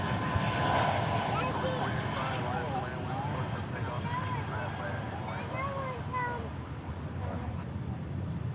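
Delta Airbus A319 arriving at DFW Airport from Los Angeles, a broad jet engine rush that fades gradually, heard beneath bursts of nearby talk and a voice.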